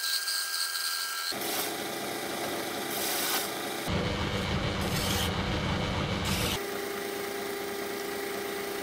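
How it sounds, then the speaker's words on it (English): A machine tool drills and then progressively bores out a hole in round metal stock for a custom hydraulic tool, a continuous loud grinding hum whose pitch and texture shift between cutting passes. "I drilled and then progressively bored the hole out bigger"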